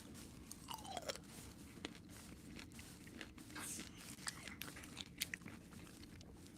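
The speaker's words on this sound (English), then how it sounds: "Today we have crunchy pickles from Buc-ee's." Close, crisp crunching as someone bites and chews Buc-ee's crunchy pickles, with sharp irregular crunches over a quiet background and no talking.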